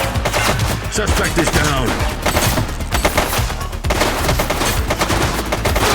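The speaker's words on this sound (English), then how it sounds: "Shots fired." Gunfire in the police video game The Precinct crackles in rapid, dense bursts of sharp shots, loud and close throughout, with a brief radio-style voice speaking over it.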